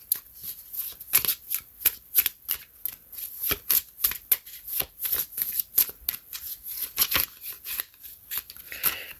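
A deck of tarot cards is shuffled by hand in a quiet room, a rapid run of crisp riffling, flapping and slapping bursts that continues for several seconds with no speech.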